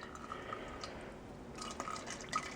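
Apple cider vinegar pours into a cheap plastic squirt bottle, a faint, close trickle of liquid with a few small drips and splashes, no voices.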